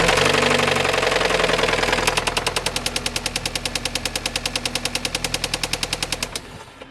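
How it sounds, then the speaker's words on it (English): An Audi S3 engine with missing bearing shells on cylinder 2 knocks loudly, a fast, steady hammering over a rough, lumpy running note that cuts off abruptly near the end. "which was causing the engine to make that lumpy, horrible sound"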